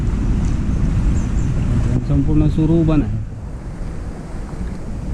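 Strong wind buffets the microphone near a waterlogged spot behind a high school during a rainstorm, making a loud, continuous roaring rush. Someone speaks briefly partway through, and the gusting eases slightly afterward.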